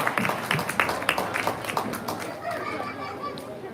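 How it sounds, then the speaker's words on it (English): Spectators around the show ring at a market hog show applaud the five exhibitors, giving a moderate wash of clapping that fades slightly toward the end while an announcer and crowd chatter carry on underneath. "all 5 of those exhibitors deserve a big round of applause"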